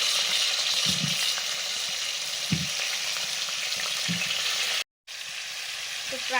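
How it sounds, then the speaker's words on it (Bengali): Potatoes for a meat curry fry in salted oil with a steady, loud sizzle, broken by a few soft stirring knocks and one brief dropout near the end. "আলুগুলো ভাজছি প্রথমে মাংসের আলু"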